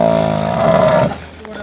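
A buffalo at the Erragadda buffalo market lets out a loud, close moo lasting about a second, then fades into the background noise of the market.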